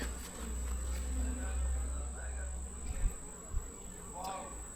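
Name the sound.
honeybees buzzing on hive frames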